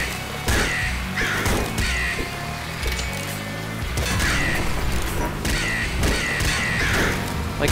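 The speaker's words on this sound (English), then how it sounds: "Curse you, crows." Harsh crow caws repeat in bursts in the video game Nuclear Throne, over a busy background of clattering and mechanical noise, loud and close.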